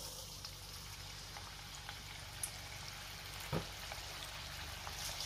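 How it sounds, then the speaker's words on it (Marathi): Chicken leg pieces fry in hot oil in a wok, making a soft, continuous sizzle with a few louder spits and crackles, low in level and with no one talking. "आता आपण चिकन लेग पीस फ्राय करून घेऊया."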